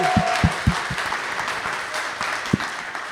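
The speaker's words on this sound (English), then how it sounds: "A little round of applause." A small audience claps steadily in a continuous patter, moderately loud, with a few low thumps near the start.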